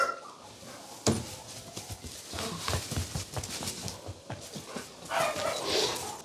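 A farm dog around newborn calves gives a few short barks and whimpers over rustling and shuffling nearby, fairly close, with no clear speech.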